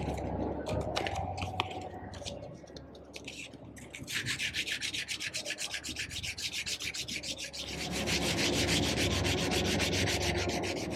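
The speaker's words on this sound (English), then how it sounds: "You can start to sand and see how it feels." Close, rhythmic sanding strokes on a wooden knife handle with 120-grit paper, rasping back and forth continuously and growing steadier and brisker toward the end.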